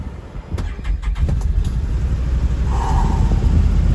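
A Can-Am utility vehicle engine on a ranch cranks with a few quick starter pulses, then catches and settles into a loud, steady idle close by, with faint birds in the background.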